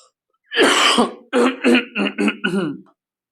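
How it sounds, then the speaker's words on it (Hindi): A person coughs and clears their throat several times in a short burst, close and fairly loud, with silence before and after. "मेरी खांसी को नजरअंदाज कर दीजिएगा"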